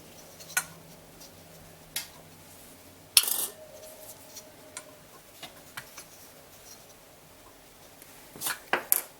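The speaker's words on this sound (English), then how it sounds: "Add your lids." Metal canning lids set onto glass jars of hot-packed chicken for pressure canning, a few sharp, light metallic clicks and taps spaced apart against a quiet background, with a small cluster of clinks near the end.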